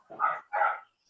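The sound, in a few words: dogs barking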